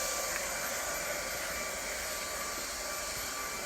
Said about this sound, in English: Use the dryer so if you want to blow a little bit of that hair over the front